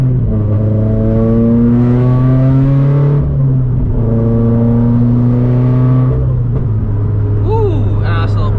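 A 400HP turbocharged FRS engine revs up in two loud, sustained surges, its low drone climbing and falling, followed by a brief sharp pop near the end.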